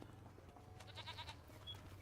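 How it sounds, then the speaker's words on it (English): Goats bleating on a farm in the video game Farming Simulator 25, a few short, faint, high calls in a quick cluster over a low steady background hum. "There's your goats."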